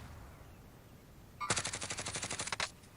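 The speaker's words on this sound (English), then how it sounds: "Shots coming back at him now." Rapid burst of gunfire from a shooter video game during a competitive playoff match, about a dozen quick close shots in a steady rattling rhythm lasting roughly a second, with quiet before.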